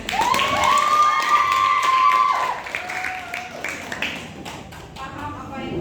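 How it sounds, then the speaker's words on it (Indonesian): A school class applauding group 5 after their role-play on the blood circulation system, with steady clapping from many hands under a shouting voice and cheering. "Untuk kelompok 5 ya, kasih tepuk tangan lagi."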